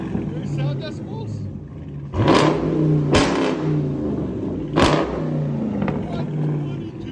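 Three loud, roaring throttle blips from a 2021 Dodge Charger Daytona 6.4 liter V8 with straight pipes and 5-inch tips rise above a low burbling idle, with voices heard in between.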